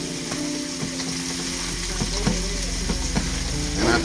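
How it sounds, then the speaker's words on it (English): Honey melting and sizzling in a pan with salmon, a steady close frying hiss with small crackles and a few soft stirring knocks throughout. "You let that honey melt down. It's already melting off. You can hear it going in."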